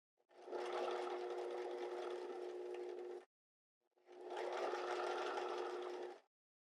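Sewing machine running steadily as it stitches fabric for a square neck top, two even runs of about three seconds each with a brief stop between, close and quiet, no talking.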